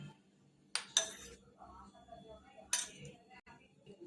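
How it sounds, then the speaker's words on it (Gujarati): A spoon mixing paneer cheese ball filling with cornflour, oregano, coriander and salt in a bowl, making a few sharp metallic clinks against the bowl and soft scraping while someone talks over it. "મિક્સ કરી લઈશું આપણે।"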